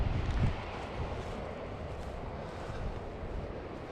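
Strong wind buffets the microphone on the Scottish coast, a continuous low rumbling roar with a heavier gust at the start, close and steady, no voices.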